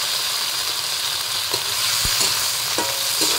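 Patola (sponge gourd) sizzles in a hot pan while being stirred, a continuous frying hiss broken by a few sharp knocks and scrapes of the utensil.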